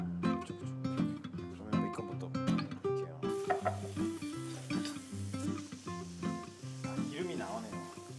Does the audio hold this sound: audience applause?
no